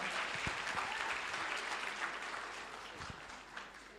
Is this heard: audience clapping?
yes